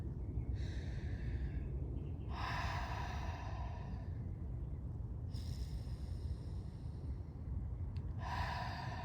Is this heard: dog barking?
no